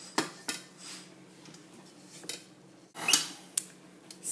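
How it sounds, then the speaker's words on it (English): A spatula scrapes around the sides of a mixing bowl of lemon loaf batter, with a few sharp clinks and squeaky drags between softer, close scraping strokes. "I like to take a spatula and scrape along the sides, just to make sure you get everything"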